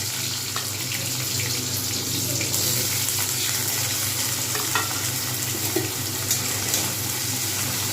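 Onions frying in a pan over a spice tempering for a Bengali ridge gourd, potato and poppy seed dish: a continuous, fairly loud hiss and sizzle with faint scraping clicks scattered throughout.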